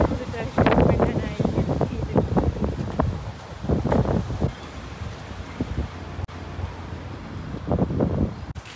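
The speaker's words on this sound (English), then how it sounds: "Crazy wind." Strong gusting wind blows outdoors on a New York City street walk, a loud, steady rush with bursts of buffeting noise against the microphone, under a person's voice for most of the stretch.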